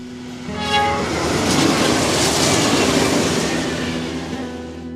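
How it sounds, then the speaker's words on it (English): A train rolls past on a railroad through a small Montana town, its horn sounding steady and loud over the rumble and clatter of passing cars, close and continuous throughout. "the mighty railroad runs right through it"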